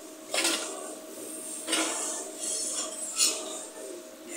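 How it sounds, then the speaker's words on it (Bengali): A lid is lifted off a cooking pot of simmering fish curry, making a few soft metallic clinks and scrapes over a steady background hiss. "এখন আমি ঢাকনাটা উল্টিয়ে দেখব কেমন হয়েছে"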